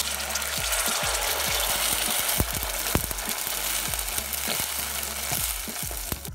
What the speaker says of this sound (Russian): Обжарить нужно буквально где-то минутку, максимум полторы.